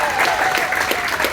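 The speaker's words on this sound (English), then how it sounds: "Another round of applause for all of our" A lounge crowd aboard the Carnival Glory cruise ship claps in a brief, fairly loud burst of applause with distinct hand claps, a voice faintly present underneath.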